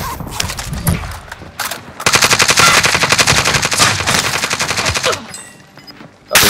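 Rapid automatic gunfire in the Call of Duty: Modern Warfare video game, a loud sustained burst of closely spaced shots in the middle, with scattered shots and clatter before and after.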